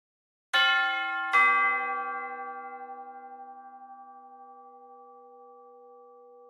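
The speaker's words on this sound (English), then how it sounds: "Our tubular bells come with both open hits, where the notes are left to ring out and decay naturally over time" Tubular bells struck twice in quick succession, each bright metallic hit left open to ring out with long shimmering decay fading slowly over several seconds, isolated and clean.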